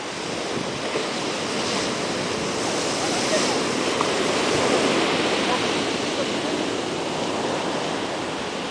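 Rough, churning sea surf at Sununga beach in Ubatuba, Brazil, a steady broadband wash of breaking waves with some wind, continuous and fairly loud throughout.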